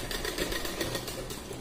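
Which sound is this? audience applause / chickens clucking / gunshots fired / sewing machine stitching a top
sewing machine stitching a top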